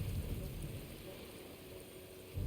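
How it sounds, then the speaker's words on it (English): Steady rain falls in a courtyard in the Genshin Impact video game, a soft continuous hiss with a faint low rumble and no voices. "I love listening to the rain from the courtyard."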